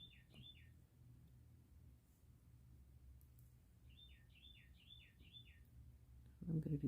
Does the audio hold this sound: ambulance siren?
no